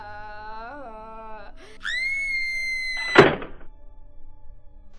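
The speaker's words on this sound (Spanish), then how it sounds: "¿Qué harías si escucharas lamentos y gritos justo detrás de ti?" An eerie ghostly wailing and screaming effect: a wavering cry gives way to a long, high, sustained wail, broken by a heavy thud before settling into a low rumbling murmur.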